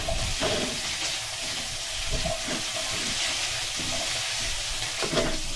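Onion and ginger fry in a hot pan, a steady hiss of sizzling oil with faint scattered clinks of utensils, close and continuous without any talking.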